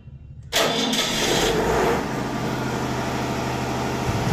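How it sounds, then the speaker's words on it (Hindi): A generator engine with a sparking fault catches abruptly and starts up, then settles into a loud, steady running hum with a low rumble, heard alone and close. "जनरेटर स्टार्ट हो चुका है"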